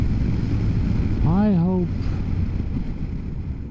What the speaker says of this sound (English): And a lot of wind.